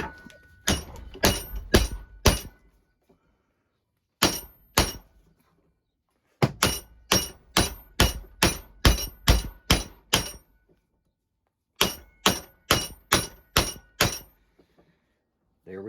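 Hammer blows knock a stuck part out of a Lucas starter motor, sharp close metallic strikes in quick bursts of four to eight, separated by short pauses.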